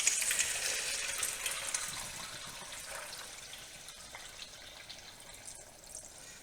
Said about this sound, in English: And now I'm going to sieve my yoghurt mixture